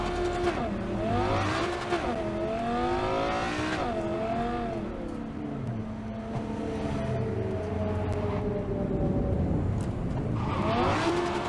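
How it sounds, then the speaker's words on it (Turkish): A car skidding and sliding in Cyberpunk 2077: a loud engine revs and drones while tires squeal in long, wavering whines, with the skid swelling again near the end. "Baksana çok kayıyor araba."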